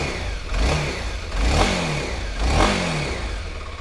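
A 250cc sport motorcycle engine revs in repeated rising surges, three throttle blips with a steady idle between them, loud and close with no talk.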